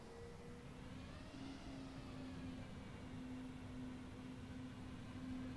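An Airbus airliner taxis in Microsoft Flight Simulator 2020, its engines producing a low, steady hum with a faint whine held at idle throughout, distant and even, with no talk.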